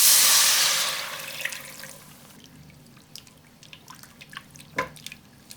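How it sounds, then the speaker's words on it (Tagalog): Water poured into a pan of melted margarine and flour while making a cheese sauce: a loud rushing pour that fades over two seconds into scattered drips and small clinks. "Magbuhos din tayo ng tubig."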